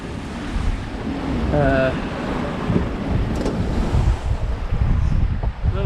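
A steady 22-knot wind roars across the microphone while ocean waves wash and surge around a sailboat sailed solo between Madeira and the Azores, with a brief faint voice in the background.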